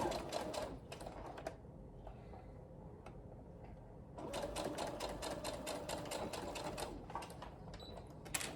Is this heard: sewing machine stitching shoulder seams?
yes